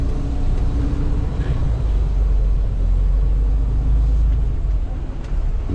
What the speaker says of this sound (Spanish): Me encanta cómo maneja este camión.